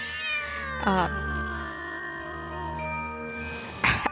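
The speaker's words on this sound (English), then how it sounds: "I saw the cat all ruffled. He started hissing at me." A ruffled cat in the video game Demonheart, two sharp yowling cat calls, one near the start and a shorter one at the end, over a low droning game soundscape.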